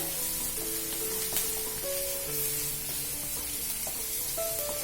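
Onions frying over a high flame, a steady hiss of hot oil throughout, with tonal music playing over it and no talking.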